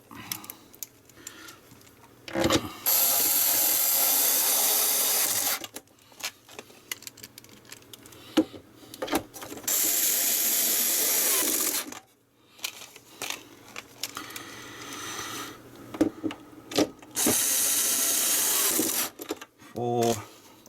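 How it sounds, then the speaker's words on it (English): A powered screwdriver with adjustable torque drives screws into the bottom of an Atari 2600 Heavy Sixer console case, making three sustained whirring runs of a few seconds each, separated by quieter handling clicks. "So let's put all these 6 screws back at the bottom."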